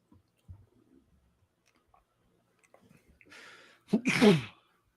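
After a quiet stretch with faint rustles, a sharp, close sneeze bursts out with an audible inhale just before it.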